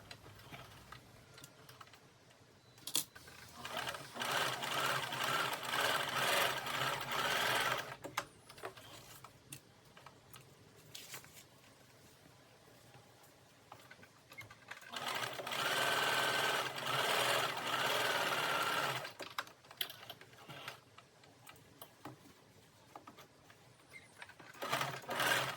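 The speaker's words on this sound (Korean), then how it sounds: "바늘 땀수를 최대한으로 높여서 한쪽 면에 두 줄의 스티치를 해줍니다." A sewing machine runs in two long bursts of steady, rapid stitching with a pause between, stitching two rows of long gathering stitches along one side of fabric for an apron-style sleeveless dress; quieter handling sounds fill the gaps.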